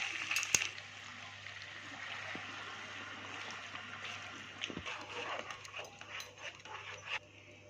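Boiling hot water pours into a pot of mutton and potato curry, a soft, continuous splashing hiss that stays faint and close, with a few small clinks near the end.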